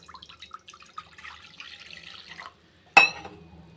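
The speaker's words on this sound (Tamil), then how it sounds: "ஒரு கப்பலை வந்து ஃபஸ்ட்டு வந்து தண்ணி சேர்த்துக்கிறேன்" Water runs and splashes into a cooking pan for a couple of seconds, then stops; a sharp clatter follows after a short silence.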